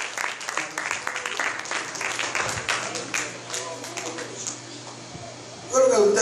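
A church congregation claps for the Lord during a worship service, a dense round of applause that gradually thins and fades, followed by a brief burst of sound at the very end.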